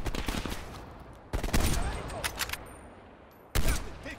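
AK rifle fire in the shooter game Call of Duty: Cold War, with several sharp, loud bursts of rapid shots separated by brief pauses and quieter clatter.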